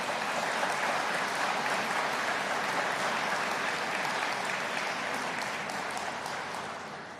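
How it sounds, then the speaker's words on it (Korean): An audience at a Busan redevelopment vision ceremony in a former factory gives a long, even round of applause for a lawmaker, dense clapping that stays steady and then tapers off at the very end. "우리 또 큰 박수 부탁드립니다"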